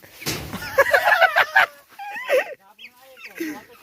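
A free-range village hen being grabbed lets out loud, agitated clucks and squawks, then quieter broken clucking as the struggle eases.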